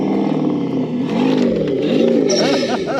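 A 2021 Ford Bronco with SSD straight axles and a new motor revs off-road, its engine droning loudly and steadily up close, the pitch rising and falling as the throttle changes.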